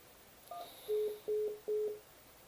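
A telephone keypad sounds a short beep, then three evenly spaced, identical touch-tone presses, close and clear over a faint background hiss.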